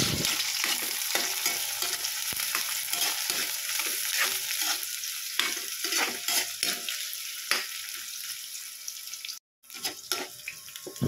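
Ginger, garlic and onion sautéing in oil in a pan for pinakbet, a loud dense sizzle with repeated spatula scrapes and stirring strokes throughout, a brief break near the end.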